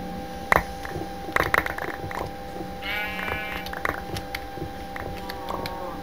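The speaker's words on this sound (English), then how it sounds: "Oh, there's a sheep." In the video game Minecraft, a sheep gives a short, wavering bleat, with clicks, taps and small game noises scattered around it.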